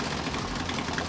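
Air-cooled engine of a 1974 VW Beetle barn find running after sitting abandoned, a steady loud low rumble with continuous mechanical vibration, close by and alone.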